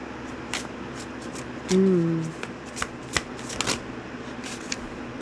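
Tarot cards are shuffled by hand in a bedroom, giving soft riffling and scattered taps that run steadily over a low room hum, with a brief louder rustle early on.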